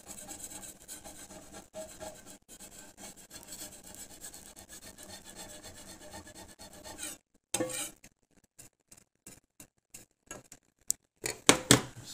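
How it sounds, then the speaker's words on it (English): Residue is scraped off a stove top in a steady stretch of dense, rasping strokes. After a brief silence come sparser scrapes and scattered sharper clicks, all close and fairly quiet, with no talk. "I hope I can get this stuff off the stove okay. Okay. It's scraping off okay."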